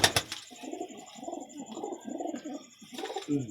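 A pigeon, with a female bird perched nearby, coos in a low, rolling rhythm of repeated throaty phrases, fairly close and clear over a quiet background.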